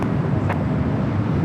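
A jet airliner rolls along runway 24 left at LAX, a steady broadband roar with wind buffeting, continuous and fairly loud throughout.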